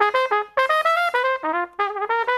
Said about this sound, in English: It's a cornet. It looks and sounds kind of like a trumpet,